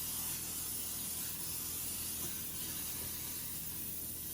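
A steady, close hiss of an aerosol cooking spray coating a pan, running continuously for several seconds, with no talking.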